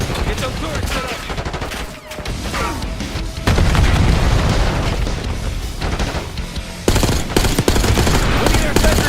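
Heavy gunfire and sentry-gun bursts from Call of Duty: Black Ops 6 form a loud, dense barrage of rapid automatic fire and booming impacts. It dips briefly, then surges back even louder, with no talk.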